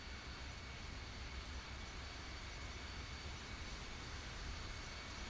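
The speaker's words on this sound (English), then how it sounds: "I swear I hear a plane" Faint, distant airplane engine drone in Microsoft Flight Simulator 2020, a steady broadband rumble and hiss with a thin high whine, low in level and unchanging across the stretch.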